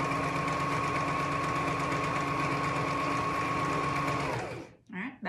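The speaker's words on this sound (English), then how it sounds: "back stitch to the end" A sewing machine runs in one steady, continuous burst while back stitching the end of a seam on a child's hat, then stops abruptly; brief talk follows near the end.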